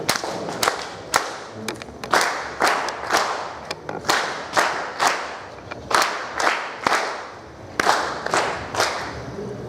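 An audience claps at a graduation ceremony in a series of loud, sharp bursts that rise and fade repeatedly, close and rhythmic, with no talking over them.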